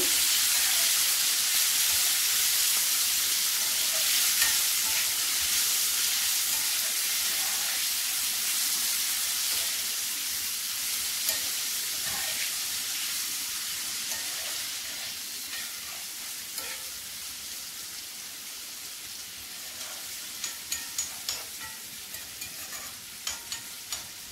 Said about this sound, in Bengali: মশলার সঙ্গে টমেটো মিশিয়ে নেব।